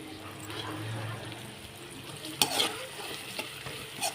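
Onions and green chilies with curry leaves frying in hot oil for an eggplant dal masala curry, stirred with a ladle: a steady soft sizzle with a few scraping clinks of the ladle against the pan.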